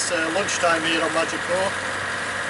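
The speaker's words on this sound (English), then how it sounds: "you can probably hear the diesel going in the background." A sailing boat's diesel engine runs at a steady low drone in the background while someone talks over it.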